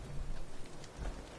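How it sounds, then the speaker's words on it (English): Rain falls in the video game Fallout 4 as a soft, continuous patter over a low rumble, quiet and brief with no talk. "so it's raining for whatever reason"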